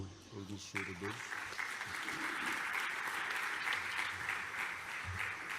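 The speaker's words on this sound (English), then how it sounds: "I would like an applause for our speakers" A seminar audience claps for the panel speakers at an energy conference on renewables storage and grid integration in Mozambique. The applause swells and holds steady, with a voice speaking briefly over it near the start.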